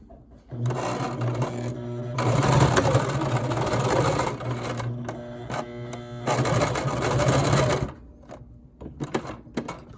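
A sewing machine stitches a homemade fabric face mask with a wire nose piece, running in steady loud bursts with brief pauses between seams and a few short stitches near the end.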